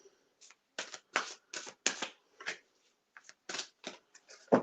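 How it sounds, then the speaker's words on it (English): Spirit card deck shuffled by hand in a quiet room: a rapid run of crisp, papery riffles and slaps, about a dozen short bursts in uneven rhythm, close and clear with no talking. "They have their own little way of shuffling these cards"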